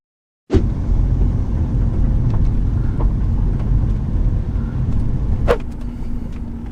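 A high-mileage Range Rover creeps slowly along a muddy road, its low engine and road rumble starting abruptly and holding steady and close, with a few faint knocks and a brief sharper noise near the end.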